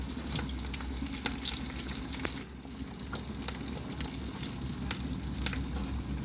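Onions and oil sizzling in a pan in an Indian home kitchen, a steady dense frying hiss with occasional stirring scrapes and clicks, close and continuous with no talking.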